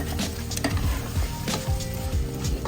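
A spoon stirs and mixes Kovai veg brinji gravy in a sizzling pan, with steady frying crackle and rhythmic scraping strokes against the pan, close and without talking.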